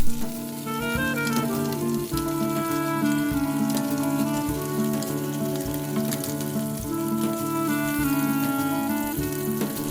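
Irish fry-up meats sizzle and crackle steadily in a frying pan, a dense continuous close-up spitting hiss, with a musical tune playing underneath.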